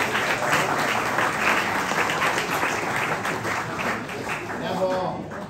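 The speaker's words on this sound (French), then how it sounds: "Avec les applaudissements pour tout le monde." Sustained applause from an audience at the closing of an event, a dense steady patter of many hands clapping, loud and close, with voices talking over it.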